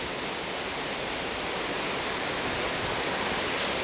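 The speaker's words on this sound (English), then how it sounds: "It's our last night and there's this crazy storm." Heavy rain from a fierce nighttime storm at a hotel in Seefeld, Austria, falling as a dense, steady hiss with scattered drop impacts, loud and continuous with no voices.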